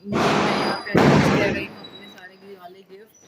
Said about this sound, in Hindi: ऐसे ही पटाखे फूटते रहेंगे।